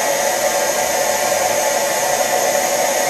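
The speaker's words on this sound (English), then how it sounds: "I've got a very, very strong blast of solvent coming straight through where the paint is" A spray gun cleaner, worked with foot controls on its big-rinse setting, drives a strong blast of solvent through a paint spray gun, making a loud, steady rushing hiss with no break and no voices.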